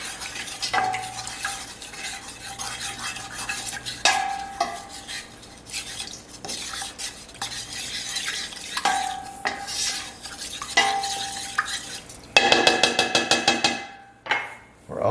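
A spoon stirs a sugary pickle mixture in a pot with repeated scraping and clinking strokes, close and moderately loud, ending in a quick run of rapid metallic taps.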